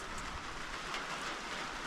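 Steady rain falls outdoors in Sweden during berry-picking season, a soft, even hiss of drops that stays constant throughout, faint and unbroken, with no voices.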